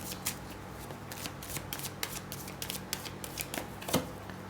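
Tarot cards shuffled by hand up close, a rapid rippling series of papery riffles and flicks with a slightly louder knock near the end, no talking.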